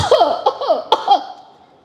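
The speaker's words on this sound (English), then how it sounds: "Why are you coughing?" An elderly woman coughs several times in quick succession beside a wood fire of wet twigs, close and loud, the short harsh bursts fading out at the end.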